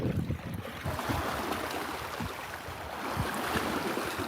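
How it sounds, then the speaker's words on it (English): Waves wash against the shore of a lake in Russia, a continuous rough churning and splashing close by, with wind noise mixed in and no one speaking. "Let's listen to the waves."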